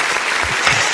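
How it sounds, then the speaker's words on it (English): Loud, dense applause from an audience at a political gathering, a continuous roar of many hands clapping together without pause. "Make me clap for this man."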